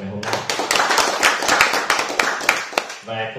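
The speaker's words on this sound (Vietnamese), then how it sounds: "một tràng pháo tay thật lớn để dành cho tất cả các cô chú anh chị đã có mặt trong ngày hôm nay" Audience at a Vietnamese real-estate event applauding, a burst of brisk claps that rises and fades, with a voice talking over it at the start and end.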